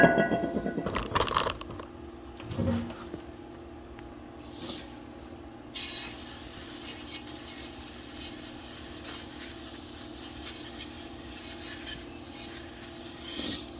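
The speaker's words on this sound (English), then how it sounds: "I'll just spray this down with brake clean real quick." Brake cleaner sprayed from a small repressurized Harbor Freight can onto the rear brake parts of a 6th Gen Camaro ZL1, a steady broadband hiss that starts abruptly and runs on without a break.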